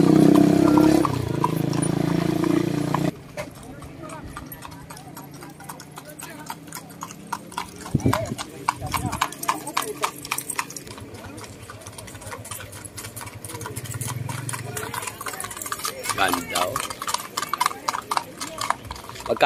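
Horses galloping in a horse race, their hooves drumming in quick rhythmic beats at middle distance, with mechanical noise and voices in the background.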